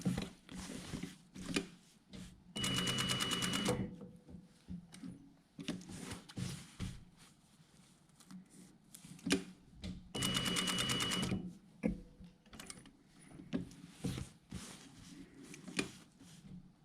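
A sewing machine stitches the canvas front of a jacket in short rapid bursts separated by quiet handling and rustling, with two longer steady runs of stitching in between.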